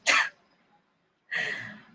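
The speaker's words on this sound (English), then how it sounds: "Oh my gosh, I super have to sneeze" A single sharp sneeze bursts out, followed by a pause and then a longer, breathy exhale, close and fairly loud.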